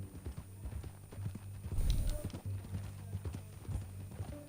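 Horse hooves clip-clopping at a walking pace in Red Dead Redemption 2, moderately close, with a brief louder thump midway and a low steady hum underneath.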